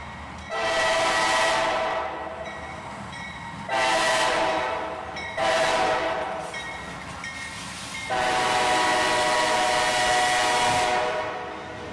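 A southbound CSX intermodal freight train passes, led by a CM44 AC rebuild and a Dash 8 locomotive, with several long, loud horn blasts sounding over the steady rumble of rolling rail cars.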